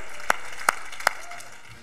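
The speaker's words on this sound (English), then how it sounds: "Come on, clap your hands and let's celebrate" Church congregation clapping in celebration, with three sharp, distinct claps at an even pace over a soft room background, then quiet.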